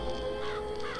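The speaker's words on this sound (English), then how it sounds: "Press to summon Murderous Crows." Murder of Crows vigor in BioShock Infinite gives off harsh crow caws over a steady game-ambience hum, brief and fairly quiet, with no talking.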